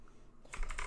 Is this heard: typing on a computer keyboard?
yes